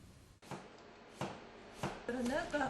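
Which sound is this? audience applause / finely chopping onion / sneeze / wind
finely chopping onion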